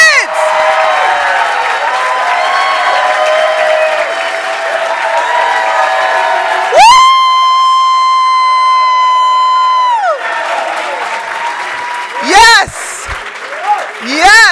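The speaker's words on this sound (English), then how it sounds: "Clap your hands as boisterously as possible." A gala audience claps and cheers loudly and boisterously, a dense roar of applause with shouts and whoops, broken midway by a long high siren-like tone and ending with scattered voices.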